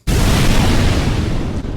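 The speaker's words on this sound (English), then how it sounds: "I like to imagine that the explosion is far away so the higher frequencies wouldn't be as well heard" A distant explosion effect built from white noise: a sudden, loud, dense roar starts abruptly and holds steady with little decay for nearly two seconds, then cuts off.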